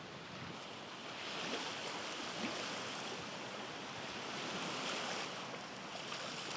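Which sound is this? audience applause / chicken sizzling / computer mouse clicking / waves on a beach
waves on a beach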